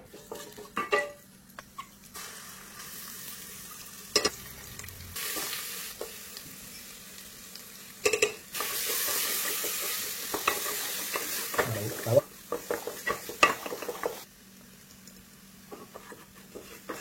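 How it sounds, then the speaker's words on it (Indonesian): Ingredients being stir-fried with keluak and spices in a pan, steady sizzling broken by repeated scraping and clanking of a utensil against the pan, close and moderately loud, with no talking. "Kita menumis tadi bahan-bahannya dengan keluak dan semua rempah-rempahnya."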